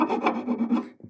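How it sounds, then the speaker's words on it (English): A file rasps back and forth over hardened GluBoost Fill n' Finish Black fill on guitar fret ends, leveling it in about five quick, close strokes before a soft knock at the end. "you can come in with a file and level it"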